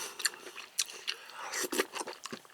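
Soft, close chewing and crunching of bean sprout and clam porridge with vegetables, an irregular run of wet bites heard alone at low level.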